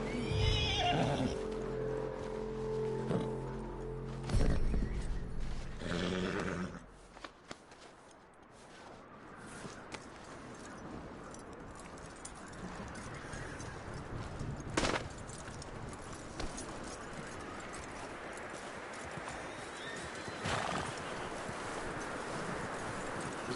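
A horse in the Red Dead Redemption 2 video game gives a loud whinny amid clattering hooves, followed by a long stretch of quieter hoof steps, rustling and scattered knocks in the open game world.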